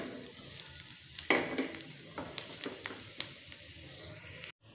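Chopped garlic fries in hot cooking oil in a pan, a close, steady sizzle broken by stirring scrapes and taps, then cut off abruptly near the end.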